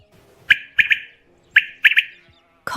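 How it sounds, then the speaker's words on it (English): A common quail, a small ground-dwelling farm bird, gives sharp chirping calls in two clusters of three quick notes, clear and close with little background. "Quail."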